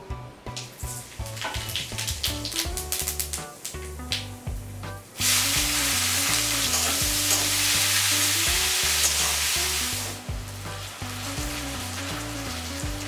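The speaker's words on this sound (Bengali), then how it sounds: "এবার ওই একই মাছ ভাজা তেলের মধ্যে আমি সাদা জিরে আর গোটা গরম মশলা ফোড়ন দিয়ে পেঁয়াজ কুচি দিয়ে" Chopped onion dropped into leftover rohu-frying oil tempered with cumin and whole garam masala, a loud sudden sizzle that roars for several seconds before easing, over steady background music.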